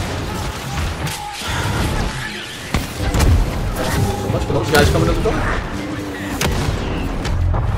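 Explosions in Star Wars Battlefront 2: repeated booms, thuds and crashing blasts in a chaotic battle, with a voice talking over the din.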